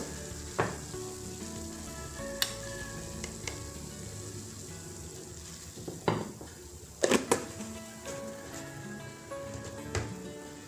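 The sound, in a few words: water boiling in a pot for cooking spaghetti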